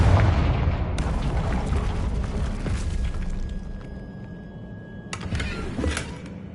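A Confringo fire spell going off in Hogwarts Legacy on PS5, a loud close booming blast with a rumbling low-end tail, followed by a sharp second burst and scattered crackles.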